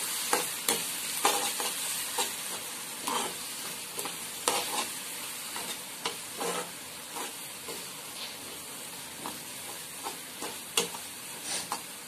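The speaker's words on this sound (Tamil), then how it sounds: "இப்போ எல்லாத்தையும் சேர்த்து மிக்ஸ் பண்ணி விட்டுருலாம் நல்லா." Masala with chili powder and turmeric is stirred and sautéed for egg gravy, a steady soft sizzle under repeated scraping strokes of a spoon against the pan, close and alone with no talk.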